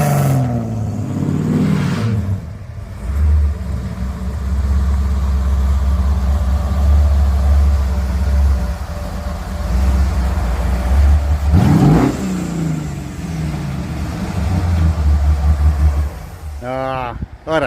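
Car engines rev and idle in a street lined with customized cars, a deep steady rumble persisting throughout with a brief louder surge near the middle, while people talk over it.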